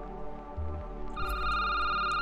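A telephone ringing in the video game Security Booth, starting partway in with a loud electronic ring over a low background hum.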